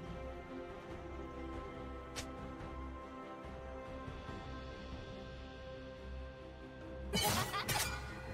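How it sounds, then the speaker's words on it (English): A turret being destroyed in League of Legends, a sharp shattering crash near the end that follows a steady low hum and scattered game effects. "Blue team's turret has been destroyed."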